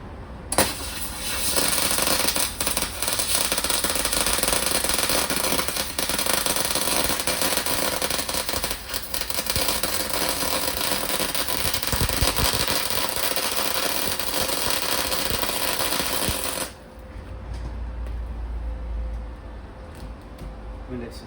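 Blackline 250 amp MIG welder laying a weld, a continuous loud crackling hiss that runs steadily for most of the span and then cuts off, leaving a quieter low hum.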